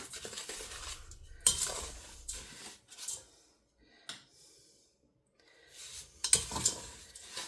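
A spoon stirs a fudge mixture of melting sugar in a pan on a stove, making intermittent scraping and clinking strokes with quiet gaps between them, close and soft, no speech.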